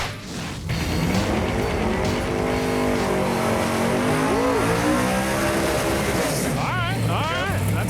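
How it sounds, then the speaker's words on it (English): A red 1990 Ford Mustang GT does a burnout at the drag strip, its engine roaring loud and steady for several seconds while people talk over the noise. "All right, that's a good burnout."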